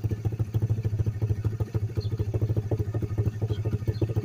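A Chinese 125cc pit bike engine fitted with a NIBBI racing carburetor idles steadily with a fast, even putter and slight mechanical clatter, close and alone.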